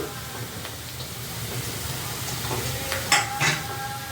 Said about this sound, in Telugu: పచ్చివాసన పోయే వరకు కొంచెం ఇట్లా ఫ్రై చేసుకుంటూ కొంచెం అయిపోతుంది.